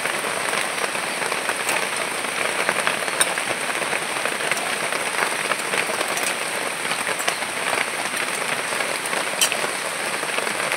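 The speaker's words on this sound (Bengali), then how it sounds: "খুব জোরে বৃষ্টি আসছে" Dense, steady roar of heavy rain pouring down, a continuous hiss of drops drumming on surfaces with no pauses.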